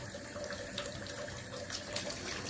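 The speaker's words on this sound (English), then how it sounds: "I'll rinse my rag out a little bit" A kitchen or bathroom sink tap runs steadily while a rag is rinsed under it. The broadband rush of water is continuous and fairly faint, and nobody speaks.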